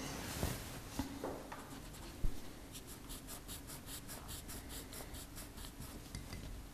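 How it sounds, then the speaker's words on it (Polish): An eraser, both the rubber on the end of a pencil and the sharp edge of an ordinary eraser, rubs lightly across drawing paper in a soft, quiet, steady scratching that carries on throughout. "W tym celu posłużyłam się gumką w ołówku i ostrą krawędzią zwykłej gumki."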